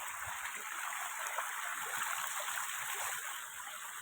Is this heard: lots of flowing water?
yes